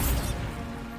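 A short blasting spell goes off in Hogwarts Legacy, a brief crash with a quick swoosh and a low rumble that fades within a second.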